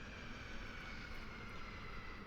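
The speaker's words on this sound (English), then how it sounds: "Vertical takeoff." A VTOL aircraft lifting off in VRChat gives a steady, droning engine hum with a constant whining tone, moderately loud and unbroken for the whole short stretch.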